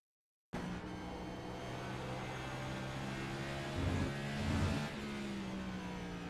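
A Next Gen stock car engine drones steadily through a qualifying lap at Watkins Glen in a racing game, loud and continuous with a brief swell of revving partway through, and no voices.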